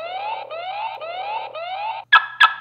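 A Xiaomi home alarm siren, set off by an infrared motion sensor, sounds four repeated rising electronic sweeps, then two sharp, loud beeps close to the microphone.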